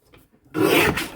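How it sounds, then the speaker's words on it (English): A paper trimmer slices through a sheet of cardstock during card-kit assembly, a single loud rasping swipe of about half a second after a quiet start, then tailing off. "And trim this at 11 1/4 again."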